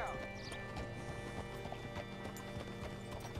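Horse hooves clip-clop at a steady walking rhythm in the video game Red Dead Redemption 2, close and clear over a soft background hum.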